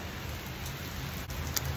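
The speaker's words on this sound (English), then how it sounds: "It's raining outside." Steady rain falling outdoors, a soft even hiss of drops with no distinct rhythm, heard close and alone for a brief moment.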